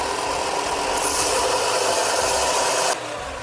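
Ryobi RBDS4601G stationary sander running in a workshop, a loud steady broadband whir and hiss that brightens for a while and then drops back, with no talk.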